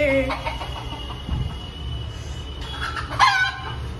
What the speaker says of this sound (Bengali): বাবা মোরগ আসছে।